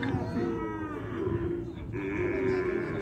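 A herd of cattle moos repeatedly at the livestock fair in Ouricuri, the drawn-out lowing calls close and loud over a steady murmur of the crowded market.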